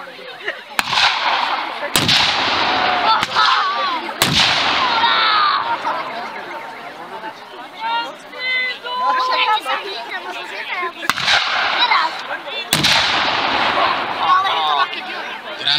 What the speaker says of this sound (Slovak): Minometný prepad podporuje ich pechotnú činnosť.